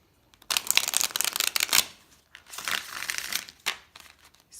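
Thick card-stock reading cards riffle and shuffle in close, crisp bursts of papery flutter and snapping, several rounds separated by short pauses, with no talking.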